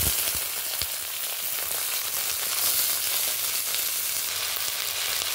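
Figs dropping into hot mustard oil with green chillies give a loud, dense, continuous crackling sizzle close up, with a few sharp pops near the start and no talking.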